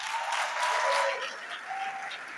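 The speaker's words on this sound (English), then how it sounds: "If you want to clap, clap." Conference audience at a national medical association gathering in Nigeria applauds in a steady, moderately loud burst of clapping that swells and eases slightly over two seconds, with no speech over it.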